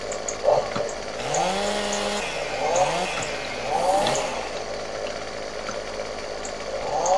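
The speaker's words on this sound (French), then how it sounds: "Je crois que ma tronçonneuse aura besoin d'affûter un peu." A chainsaw engine in a farming video game revs up and down in repeated bursts, its whining pitch rising and falling over a steady mechanical drone.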